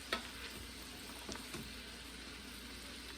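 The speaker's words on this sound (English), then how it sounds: "let's let that stir up or cook down or caramelize them" Onions caramelizing in a pan for French onion soup, a soft steady sizzle with a few faint stirring scrapes and clicks near the start, quiet and close, no talking.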